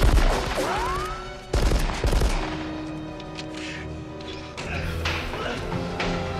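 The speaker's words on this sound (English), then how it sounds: "can he hear the gunfire on the roof?" Bursts of gunfire crack out in a few sharp clusters at the start from the 1988 film Die Hard, followed by lingering rumble and a high, ringing tone, like an action scene soundtrack.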